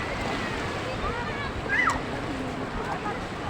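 Sea waves wash steadily against a provincial beach in a continuous, moderately loud rush with wind noise, swelling slightly midway, and a brief high chirp rises above it.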